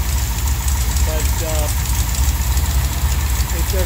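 A Mopar 440 big block built out to a 505ci stroker idles with no exhaust fitted, a steady, loud, rumbling low drone running the whole time with even, lumpy pulses.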